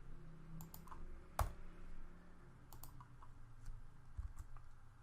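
Fingers type on a computer keyboard while HTML code is entered, producing quiet, close, irregular key clicks with one sharper tap, and no one speaks.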